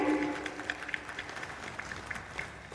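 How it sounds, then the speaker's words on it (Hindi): A school audience at an Independence Day celebration claps in a welcoming round, a soft scatter of individual claps heard from a distance, fairly faint and with no talking. "सब कोई तालियां बजाएंगे।"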